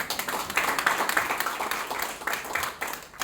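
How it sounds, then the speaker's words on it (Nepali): A seminar audience at a business talk claps in a loose, rhythmic patter of individual hand claps that builds and then trails off, close and fairly loud. "यहाँहरूको लागि जोरदार ताली।"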